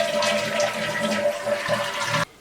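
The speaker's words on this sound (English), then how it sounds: "After the water's off, drain the toilet tank." A toilet flushes to drain its tank, giving a continuous rushing of water that stops abruptly just past two seconds.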